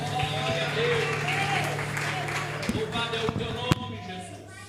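A church congregation applauds at moderate volume for a few seconds, with scattered claps, shouts of praise and a preacher's voice over the clapping.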